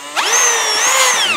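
A power screwdriver backing screws out of a steam wallpaper stripper and wax melter, a loud close motor whine that spins up sharply and holds steady with slight pitch wobble, no speech.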